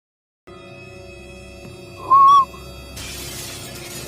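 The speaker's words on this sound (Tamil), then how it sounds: "விசில் அடிச்சுட்டான்" A person whistling, a short bright clear whistle note rising out of a quiet low hum, followed by a louder hissy background.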